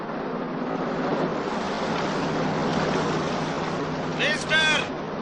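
A motorboat engine runs on open water, a steady, fairly close broadband rumble mixed with wind and water wash, while a voice breaks in briefly near the end.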